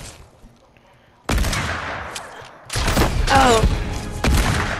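Bursts of automatic gunfire in the Fortnite video game: a short opening volley, then sustained, loud, dense firing with overlapping shots and a brief voice under the shooting.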